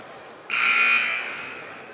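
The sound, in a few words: basketball game timer buzzer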